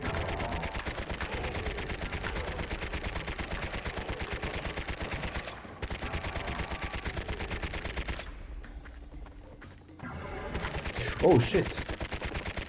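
Rapid automatic Uzi fire in the shooter game Serious Sam: Next Encounter, a dense continuous rattle of shots with a brief break and louder bursts near the end, with a man briefly exclaiming over it.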